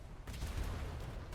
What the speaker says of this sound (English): Keep firing starboard.